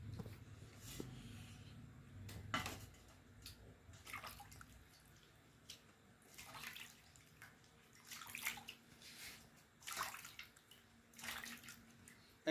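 Water splashes and trickles as a wooden board is rinsed by hand, in quiet, uneven bursts of sloshing and dripping.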